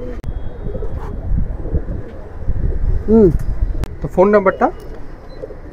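Giribaz pigeons kept near the Hajj camp by the airport coo a few times in low, warbling bursts, partly under someone talking close up, with a faint hum behind.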